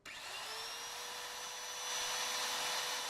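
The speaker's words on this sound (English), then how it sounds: "we can just drill straight through" A power drill with a 13mm bit drills straight through a door, whirring steadily, its pitch rising slightly as it bites in, running continuously at moderate volume without talk.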